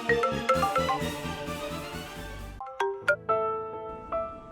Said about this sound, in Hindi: 1 मिनट उस विवान को फोन ही लगाता हूं मैं।